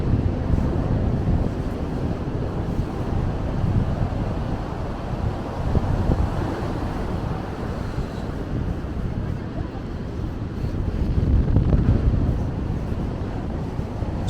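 Ocean waves and steady wind at Muizenberg beach in Cape Town, a broad continuous roar of surf with gusty wind buffeting the microphone throughout, loud and unbroken.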